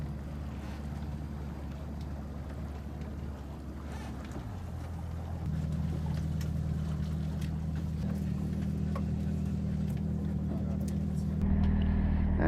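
A crabbing boat's engine drones steadily on Yaquina Bay, Oregon, a low continuous hum with wind and water noise that grows slightly louder partway through, with no talk over it.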